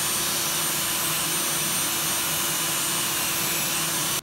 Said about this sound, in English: This is a soft bristle brush here on my Dremel